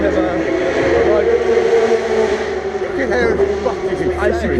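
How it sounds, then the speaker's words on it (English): Race cars roar along the pit straight at Silverstone during a 6 Hours endurance event, engines droning and revving loudly in a steady blur beneath people talking nearby. "As you can hear, we are right by the pit straight, and about to go see some racing."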